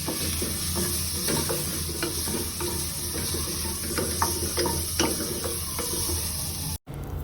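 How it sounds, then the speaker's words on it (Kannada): Marinated prawns fry in a pan with a constant loud sizzle, as a spoon stirs them in irregular scraping strokes; close and steady, broken by one brief gap near the end, with no voices. "ಮೊದಲು ನಾವು ಪ್ಯಾನ್ ಮೇಲೆ ಫ್ರೈ ಮಾಡಿ ನಂತರ ಅದನ್ನ ಮಿಕ್ಸ್ ಮಾಡ್ಕೋಬೇಕಾಗುತ್ತೆ"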